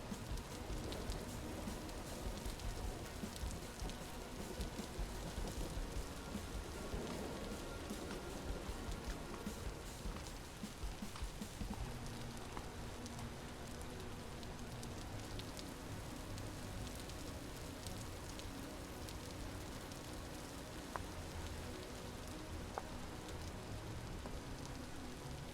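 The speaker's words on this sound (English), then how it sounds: "Get a little rain on our faces." Rain falls steadily outdoors on open land at dusk, a continuous soft patter and hiss with scattered louder drops, with no voices.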